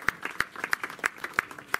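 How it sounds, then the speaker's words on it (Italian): A few people in an audience at a civic street-naming event in San Mango d'Aquino clap in a brief, uneven pattern, individual hand claps clear and close with no one speaking. "Un applauso a San Mango."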